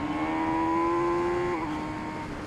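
An MV Agusta Brutale RR naked motorcycle holds a strong, steady engine note up close, then a quick-shifter auto-blip downshift drops the pitch abruptly and the engine settles at the lower tone.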